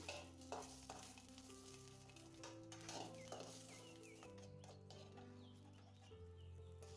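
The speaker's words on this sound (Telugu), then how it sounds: "అందులోకి జీలకర్ర వేసి బాగా వేపుకోవాలి" Cumin seeds and green chillies fry and sizzle in a pan for pudina pachadi, a soft steady crackle with occasional stirring scrapes and no talking.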